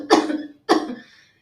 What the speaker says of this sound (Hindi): जब मुझे खांसी आना शुरू होती है